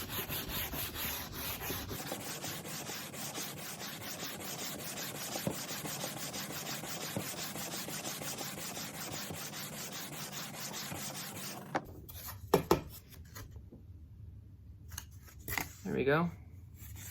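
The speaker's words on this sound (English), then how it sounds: "Probably could sand the leading edge just a little bit more." Sandpaper rubs in steady back-and-forth strokes along the leading edge of a balsa model airplane wing, close and continuous for several seconds, then stops. A person speaks briefly near the end amid a few light handling knocks.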